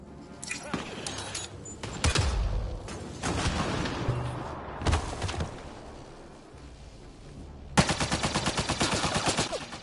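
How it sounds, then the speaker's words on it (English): Gunfire in the video game Mass Effect: Andromeda comes in repeated loud bursts, including a sustained rapid automatic volley near the end, with brief voices talking between shots. "Just keep firing, we can do this!"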